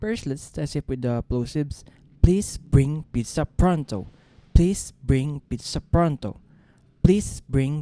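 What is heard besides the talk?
No everyday noise stands out behind the speech.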